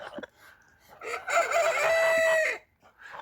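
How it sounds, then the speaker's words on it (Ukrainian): A Kholmogory gander calls loudly and close, one sustained harmonic honk of about a second and a half, with shorter, softer calls just before and after. "Новий гусак комогорчик"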